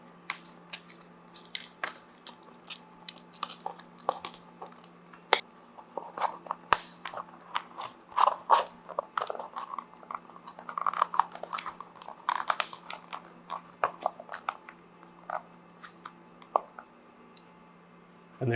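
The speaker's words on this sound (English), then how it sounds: "we just start folding on the perforations" Cardboard box being folded along its perforations, giving a steady stream of close crackling creases, taps and small snaps over a low hum, no talk.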